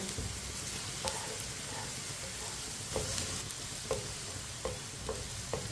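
Okra (bhindi) sizzles steadily in a frying pan, a soft continuous crackle broken by occasional clicks of stirring, alone with no talk.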